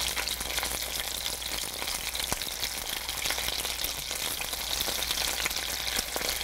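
Chicken thigh steak fries in a pan with a dense, even sizzle and fine popping crackle, close and continuous with no voices over it.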